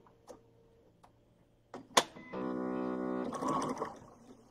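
A sewing machine runs a quarter-inch seam on a knitted star quilt block: a few soft clicks and taps, then a steady, close motor whir for about a second that trails off into handling noise.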